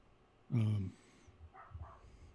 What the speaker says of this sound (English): Can you hear that dog barking in the background?